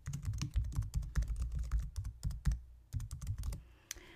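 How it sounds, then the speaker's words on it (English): Typing on a computer keyboard to enter watermark text for an image, with rapid, close, continuous key clicks in uneven bursts and brief pauses, ending with a short gap. "go ahead and just type whatever it is that you would like to watermark your image with"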